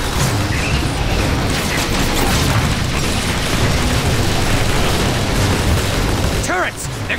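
In Transformers: War for Cybertron, a video game, a dense, loud barrage of gunfire and booming explosions roars continuously while a voice shouts over the battle.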